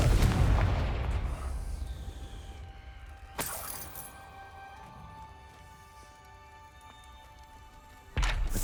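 Confringo spell explosions from the video game Hogwarts Legacy: a loud blast opens the clip, a sharp crack follows mid-way and then fades into a quiet ringing tail, and a final burst hits near the end.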